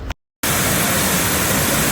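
Waterfall at a swimming spot in Quimixto near Puerto Vallarta, a steady, loud broadband rush of falling water filling the clip after a brief cut to silence near the start.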